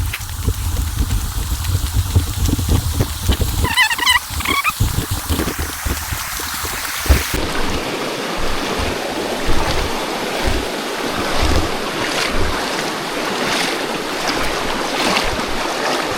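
A river being waded across on a National Trail hike, with steady, close and loud rushing and splashing water that runs unbroken throughout and changes in texture about halfway through.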